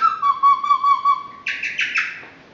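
A leaf blown like a reed gives a bird-call imitation outdoors near Shilin, Kunming: a sliding whistle for about a second and a half, then four quick bright chirps, close and fairly loud.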